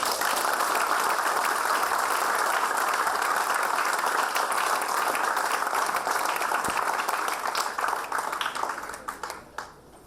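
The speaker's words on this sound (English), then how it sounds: "So a big round of applause for you all." An audience applauds continuously at an orientation programme, dense clapping holding steady for several seconds before tapering off and fading out at the end.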